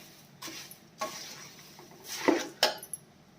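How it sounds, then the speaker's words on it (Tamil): Masala puffed rice being tossed and mixed in a bowl, giving a few soft rustling, scraping bursts and a couple of sharper clinks of a spoon against the bowl, close up and with no one talking. "நல்லா மிக்ஸ் பண்ணி விட வேண்டியதுதான்."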